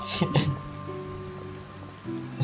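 Rain falls in the Fontaine region of the video game Genshin Impact, a soft, steady hiss of rain under sustained musical tones, with a couple of sharper splashes near the start.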